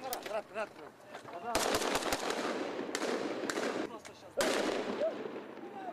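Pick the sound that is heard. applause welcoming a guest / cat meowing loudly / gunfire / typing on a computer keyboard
gunfire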